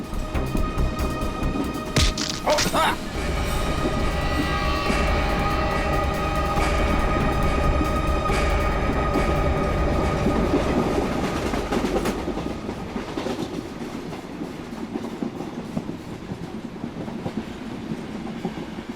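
Moving passenger train with steady, loud rumble and rhythmic clickety-clack of wheels over rail joints, a brief squeal early on, continuing without speech.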